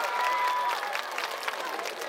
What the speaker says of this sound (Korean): 격려의 박수 부탁드리겠습니다